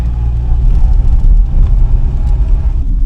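A car lurches along a rough off-road track, a loud, continuous low rumble of engine and jolting suspension without speech.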